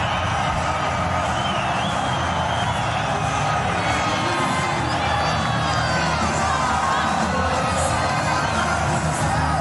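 A large crowd at a Pakistan versus Sri Lanka one-day international cricket match roars and cheers loudly and steadily throughout, with whoops and shouts rising out of the dense, unbroken stadium din.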